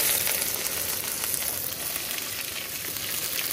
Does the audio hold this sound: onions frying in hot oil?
yes